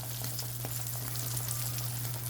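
A tiny shrimp (alamang) omelette fries in a pan with a soft, continuous sizzle and faint crackles over a steady low hum. The whole sound is quiet and even.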